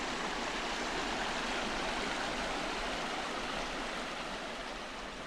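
A creek beside a log jam near old gold rush ruins rushes steadily, a dense, even broadband roar with no breaks, close and loud, with no voices.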